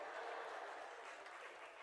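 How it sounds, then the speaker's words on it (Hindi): Audience applause breaks out at a Jain religious sermon, a steady, dense clapping from a large crowd that fills the whole stretch without any talking. "तालियां बज गई।"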